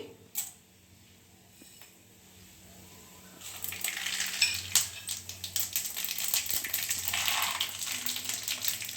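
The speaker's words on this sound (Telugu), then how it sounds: "ఇదిగోండి కడాయిలో కొంచెం ఆయిల్ వేసుకొని మిర్చి వేసుకొని పోపు గింజలు వేసుకోవాలి" Chillies and mustard seeds sizzle in oil in a kadai, starting quietly and then swelling into a steady, crackling, popping hiss that stays fairly loud for the second half.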